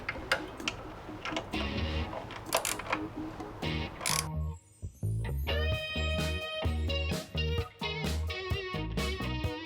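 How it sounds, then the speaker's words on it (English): A bracket bolt being tightened on a Scorpion full-system exhaust fitted to a Triumph Trident 660 motorcycle, heard as quick, close mechanical ticking clicks in irregular runs. "we're going to tighten the other bracket bolt that we installed earlier"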